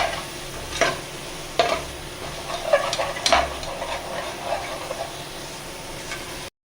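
Biryani masala paste sautéing in oil in a pan: a continuous gentle sizzle with occasional sharper spatula scrapes and stirring knocks, close up, no one speaking.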